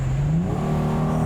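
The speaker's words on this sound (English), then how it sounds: "that straight six sound BMW is very famous for" BMW M440i convertible straight-six gasoline engine revving under load, a steady close, loud drone that climbs gradually in pitch across the clip with no voices.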